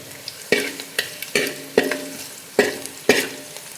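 Onions fry with tomato in a pan for a chicken dish, and a spoon stirs them in repeated scraping strokes about every half second, each over a bright sizzle, close and clear.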